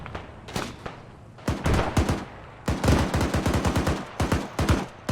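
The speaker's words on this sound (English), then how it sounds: "Watch out for that heavy machine gun." Heavy machine gun fire in a video game: close, loud bursts of rapid shots, several short volleys broken by brief pauses, with a long sustained run near the end.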